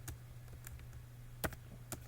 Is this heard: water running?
no